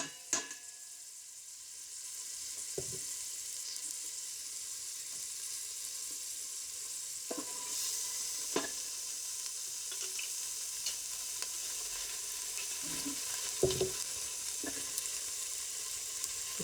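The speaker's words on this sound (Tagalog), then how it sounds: "Lutuin muna natin ang ating karne." Meat frying in hot cooking oil gives a steady close sizzle through the whole stretch, broken by occasional clinks and scrapes of stirring, with no talk.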